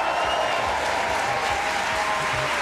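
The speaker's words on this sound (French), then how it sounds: "C'est peut-être pas la peine de faire tant d'applaudissements pour Pierre-Emmanuel Barré." Sustained, even applause from a studio audience greeting a guest on a French radio-TV show, dense and steady throughout with low voices beneath it.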